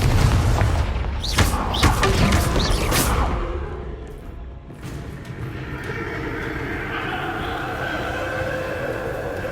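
Repeated Confringo fire spells in the Hogwarts Legacy video game, heard as heavy booming blasts with whooshes over the first few seconds, then fading into a steady rumbling game backdrop.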